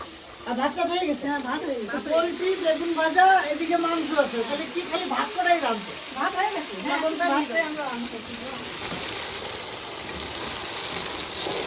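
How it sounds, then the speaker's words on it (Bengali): Poultry and eggplant frying in a pan at home give a steady sizzle that runs under a voice talking for most of the stretch, then continues alone as a broader hiss near the end. "আমি এখানে পোলট্রি আর বেগুন ভাজা"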